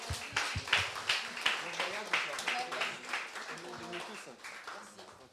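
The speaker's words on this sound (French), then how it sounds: "Est-ce qu'on peut applaudir le Seigneur encore ?" A church congregation applauding during a French service, rhythmic clapping in unison with voices speaking or singing over it, the clapping gradually softening.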